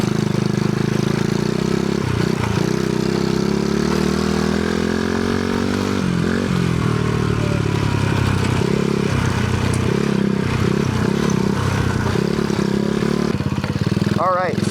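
Go kart engine droning steadily while riding a road through a forest track, a constant mid-pitched motor hum with rattles and scrapes, and a voice talking over it.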